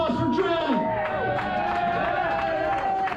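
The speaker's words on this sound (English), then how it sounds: "Round of applause for Dread." A crowd at a live comedy-style tour show claps and cheers, with whoops, shouting voices and babble layered over the applause at a loud, steady level.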